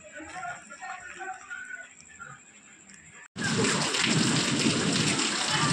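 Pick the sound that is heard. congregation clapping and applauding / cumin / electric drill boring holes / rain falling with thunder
rain falling with thunder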